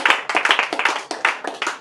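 A church congregation claps in a quick, steady rhythm to acclaim the Lord. The claps are close and bright and form a brief, even burst.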